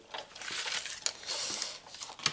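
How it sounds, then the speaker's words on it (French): Stampin' Up! die-cutting machine pressing card on a tabletop, giving a short burst of crackling, crinkling mechanical noise with a few sharp clicks. "c'est l'outil magique de découpe. Ça fait un petit peu de bruit, ça tremble certainement puisque la caméra est posée sur ma table"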